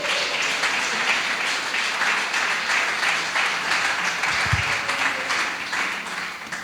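Church congregation applauding during a sermon, sustained loud clapping from a full room that holds steady and then tapers slightly at the end, with no talk over it.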